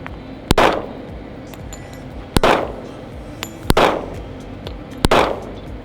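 Four sharp gunshots fired at a target on an open Texas ranch, spaced about one to one and a half seconds apart, each a loud close crack followed by a brief ringing decay, with no talking between them.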